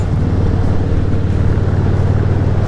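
A Harley motorcycle with an aftermarket exhaust idles with a deep, steady, throaty rumble, running continuously and fairly loud.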